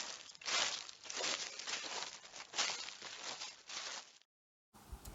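Footsteps from a children's audio story: about six soft, crunching steps in an uneven walking rhythm, fairly close, each a short rustly burst, stopping before a brief quiet tail.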